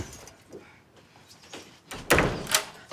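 A door is shut and locked indoors: a few quiet knocks and shuffles lead to a loud slam-like thunk, then a sharp metallic latch click, all close by.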